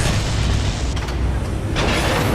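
A radome blows up in the PS1 game Metal Gear Solid (1998) as a dense, loud, continuous rumbling blast with a fresh burst near the end, no voices over it.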